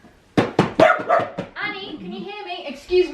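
A dog gives several sharp, loud barks in quick succession during an outdoor first aid training session, then a person starts talking nearby.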